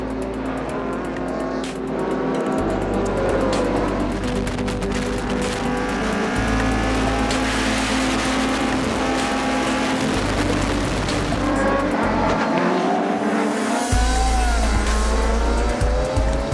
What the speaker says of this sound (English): These cars are made for racing, not to gather dust in a museum.